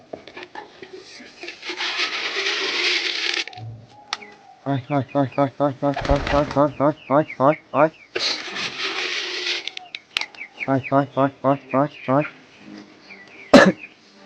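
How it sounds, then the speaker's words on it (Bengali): Pigeons coo close by in repeated rhythmic bursts, broken by stretches of rustling noise and a sharp knock near the end. "কেউ কেউ ডাকাটাকি করছে"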